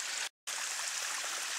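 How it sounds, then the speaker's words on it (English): Water running down a hillside stream in a state park: a steady, close rushing wash of flowing water, broken by a brief gap of silence before resuming evenly. "There's water coming down the hill."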